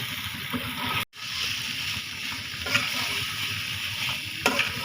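Quail eggs are sautéed in a pan with a steady sizzle and soft scraping stirs, a brief dropout near the start, then continuous frying noise with occasional utensil clicks.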